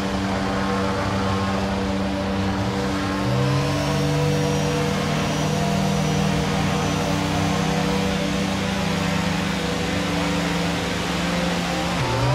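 A Red Bull Formula 1 car at the Red Bull Ring in Austria holds a loud, steady high-revving engine note for the whole stretch, its pitch rising and shifting in sustained sweeps, close and continuous with no talk.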